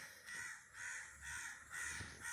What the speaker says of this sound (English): That crow is taking over.